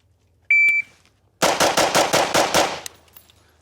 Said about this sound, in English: Those 7 shots, 205.